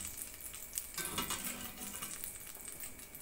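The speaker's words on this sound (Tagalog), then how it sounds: "igigisa na natin yung bawang sibuyas sa silingan" Garlic, onion and long chili sautéing in a pan, a faint soft sizzle with light crackles and stirring that swells slightly after the first second and holds steady.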